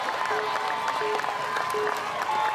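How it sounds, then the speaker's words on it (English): A crowd cheers and applauds for Jimmy Choi at an American Ninja Warrior qualifying event in Kansas City, a dense wash of clapping and shouts with a voice talking over it. "everyone is cheering for him right now"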